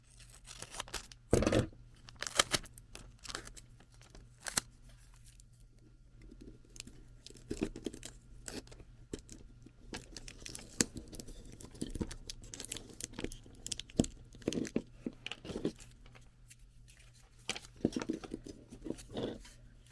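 Packing tape is cut with scissors and torn off the roll, heard close up as sharp snips, ripping and crinkling bursts spread over a quiet background.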